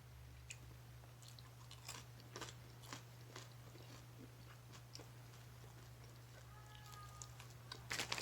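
Thin, dry Old Santa Fe beef jerky is chewed in soft, irregular crunches over a low background hum, with one louder, sharper crunch at the very end.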